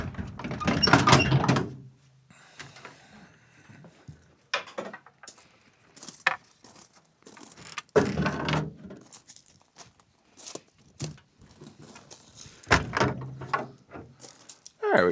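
A wooden shed door scrapes and rattles open in a few loud, uneven bursts, with clunks and shuffling between them and no talk.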